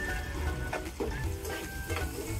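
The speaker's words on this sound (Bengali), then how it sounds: "1 মিনিটের মতো পেঁয়াজটা আমি ভেজে নেব" Chopped onions with salt fry in a pan, giving a soft steady sizzle with a few light stirring scrapes, fairly quiet and close.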